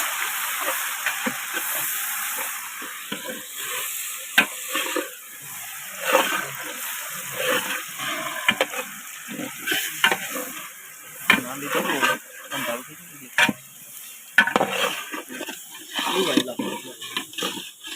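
Garlic sizzles and crackles in hot oil as tempering for a tuvar totha dish, a loud, close, continuous hiss broken by sharp pops and the scrape of stirring.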